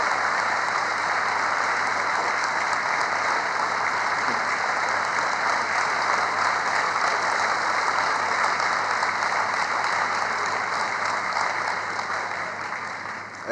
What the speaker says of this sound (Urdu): اس حال میں تالیوں کی گونج آپ کو بتائے گی